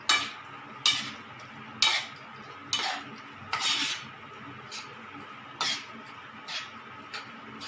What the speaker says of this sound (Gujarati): એની અંદર ઇડલી નાખી દઈશું અને કમ્પ્લીટલી એને હલાવી દઈશું